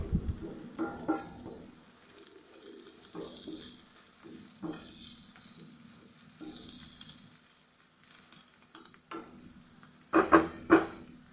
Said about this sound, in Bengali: আমি করলা আর আলু দিয়ে ভেজে নিচ্ছি